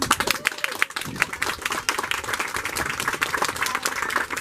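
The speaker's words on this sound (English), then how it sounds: "I'm not sure who the clapping is for" Audience at a family reunion applauding, a dense, steady patter of many hands clapping throughout, fairly close.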